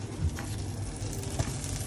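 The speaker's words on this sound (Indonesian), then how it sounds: "Tumis pakai sampai harum." Food sautés in a pan for a Hokben-style beef dish, with a brief, quiet sizzle broken by a couple of soft stirring knocks.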